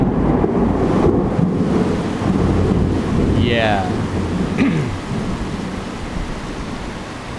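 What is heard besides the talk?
thunder during a thunderstorm in Bangkok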